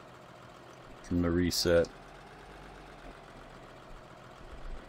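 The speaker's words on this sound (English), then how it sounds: "I love this New Holland tractor." A New Holland tractor idles in Farming Simulator 2013, a faint steady low engine drone running throughout beneath a brief spoken remark near the start.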